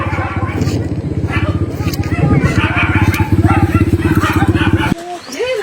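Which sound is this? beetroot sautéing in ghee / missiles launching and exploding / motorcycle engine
motorcycle engine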